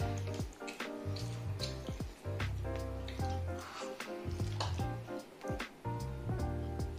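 Biryani is served onto a plate amid scattered clinks and scrapes of dishes and cutlery, close and fairly quiet, with irregular taps and knocks throughout.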